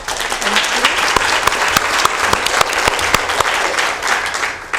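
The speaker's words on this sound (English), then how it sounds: "round of applause for everybody here." Sustained applause from a community meeting audience, steady dense clapping throughout with a few louder individual claps standing out near the front.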